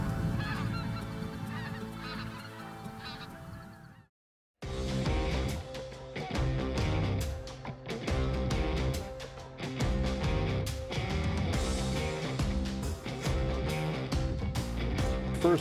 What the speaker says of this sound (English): we've got a bunch of speckle bellies up in the pocket here, some Canadians.